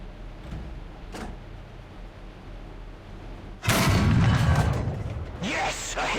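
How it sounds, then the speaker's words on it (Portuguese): A tank cannon shot strikes its target in the War Thunder video game, arriving as a sudden loud boom with a rumbling impact tail after a quieter stretch of engine drone and distant thuds. "primeiro tiro eu acertei já de primeira, velho."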